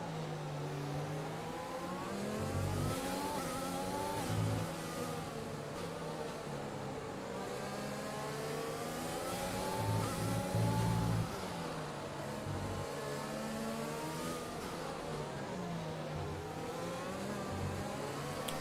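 An F1 race car engine in a career-mode racing game howls steadily, rising and falling in pitch as the car shifts up and down through gears over a long stretch, with no one speaking.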